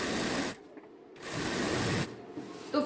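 A sewing machine stitches salwar fabric in two close, buzzing runs split by a brief pause. It ends with a small clack.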